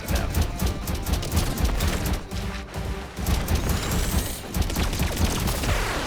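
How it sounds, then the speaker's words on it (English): A flamethrower in the video game Contra: Operation Galuga fires with a dense, continuous roaring blast mixed with crashing, explosive in-game effects, loud and sustained throughout. "Flamethrower!"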